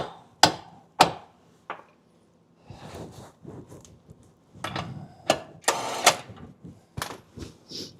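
Hammer pounding on a grade 8 bolt in a workshop, with three sharp metallic strikes, a pause, then a denser cluster of hard blows and scraping handling noise, all close and loud.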